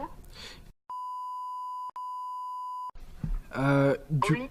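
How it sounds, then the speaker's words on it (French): A loud, steady censor beep, one flat tone broken by a tiny gap, cuts in over speech, with a voice talking before and after. "On mettra un bip pour pas entendre."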